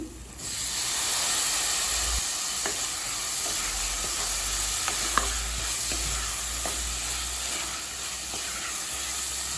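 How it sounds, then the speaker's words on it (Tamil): Tomatoes being sautéed in a pan for potato masala gravy, a steady close sizzle and hiss throughout with occasional soft scrapes and taps of a spatula stirring. "இந்த தக்காளி சாஃப்ட் ஆகிற வரைக்கும் நல்லா வதக்கிக்கலாங்க."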